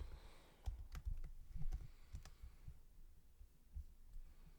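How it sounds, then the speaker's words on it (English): Repeated clicks of a computer keyboard as the delete key is pressed over and over; a quiet, irregular series of sharp taps in a calm room, with no one talking. "I keep clicking the delete button."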